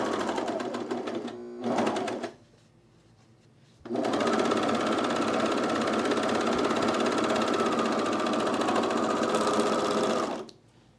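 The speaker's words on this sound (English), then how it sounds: "Going to overlock these raw edges together." Overlocker stitching the raw edges of cargo shorts, a short burst of fast mechanical whirring, a pause, then a long steady run of several seconds, loud and close.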